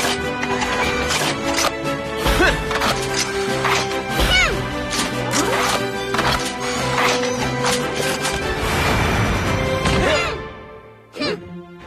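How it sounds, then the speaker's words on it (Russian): Cartoon rockfall: repeated loud crashes and thwacks of tumbling stones over roughly ten seconds with layered music-like tones, ending abruptly. "К тому же начался камнепад"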